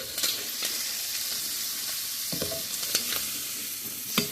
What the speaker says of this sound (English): Scrape it to the bottom of the pan.